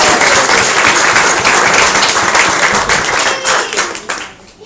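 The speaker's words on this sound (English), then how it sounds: "That's a round of applause." Wedding guests break into loud, sustained applause at a reception speech, dense clapping filling the room before tapering off toward the end.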